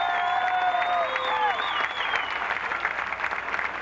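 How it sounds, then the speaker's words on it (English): Crowd applause and cheering in the grandstands at a speedway race, with whistles and shouted voices over the clapping, which fades to a broad, slightly distant wash of sound. "how about a round of applause, Jeffrey Bodine."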